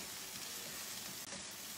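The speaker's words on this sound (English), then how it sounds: "fry this onion, you know, till it becomes a light brown" Onion frying in a pan with a little salt gives a steady, dense sizzle throughout, close and even, with no voices.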